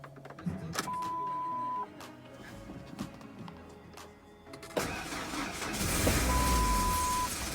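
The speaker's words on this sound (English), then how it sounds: "Give it gas this time and keep it running." A truck engine after an engine swap cranks and catches, running roughly with revving bursts and a steady whine, heard up close in a workshop setting with brief mechanical noises in between.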